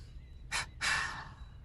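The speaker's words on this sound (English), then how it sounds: "It's a double breathing technique." Breathwork exercise of quick double inhales through the nose followed by double exhales, heard as two short close breath bursts, the second longer and trailing off, with no talking.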